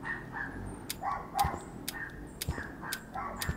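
Dogs barking in the Roblox game Piggy, a string of sharp, repeated barks and yips at irregular intervals, fairly close, with a faint tonal game sound behind them.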